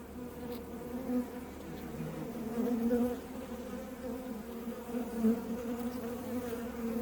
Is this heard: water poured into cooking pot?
no